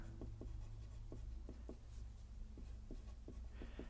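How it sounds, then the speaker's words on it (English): Equations being written by hand for a lesson on grad, div and curl in spherical polar coordinates, with a steady run of soft, rhythmic pen or chalk strokes, close and faint over a constant low background hum, with no talking. "So let me write them here."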